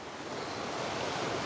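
A strong, fast creek on the Pacific Crest Trail rushes in a dense, steady roar of water, loud and unbroken, with some wind buffeting the microphone.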